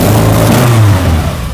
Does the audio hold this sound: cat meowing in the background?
no